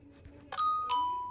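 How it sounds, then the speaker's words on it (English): A realistic doorbell built in a game gives two clear electronic chime tones, the second ringing out and slowly fading, after a brief soft rustle; no voices. "and kaboom, you have a doorbell, realistic doorbell"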